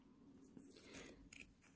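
Scissors snip around the base of a thin plastic piece, giving a few close, soft cuts and crinkles over about two seconds, quiet and without talk.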